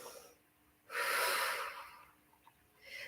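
Deep breath drawn in slowly during a yoga exercise, a single breathy rush lasting about a second before easing off, with a softer breath following at the end.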